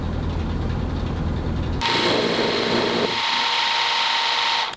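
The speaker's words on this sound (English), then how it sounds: "I decided to just brute force fix it with the mini mill. I cut off all of the old broken screw." A mini mill cuts off an old broken screw with a loud, steady high-pitched grinding whine that kicks in abruptly over a running motor hum and holds for several seconds before cutting off.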